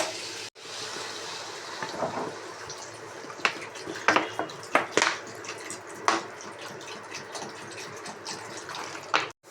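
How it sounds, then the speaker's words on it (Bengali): Water is poured into papaya curry frying in a pan, giving a sustained splashing gush broken by sharp sizzles and clatters, close and fairly loud with no speech. "আগে প্রথমে একটু জল দিয়ে দিচ্ছি এটাকে, কারণ পেঁপে সেদ্ধ হতে সময় লাগবে।"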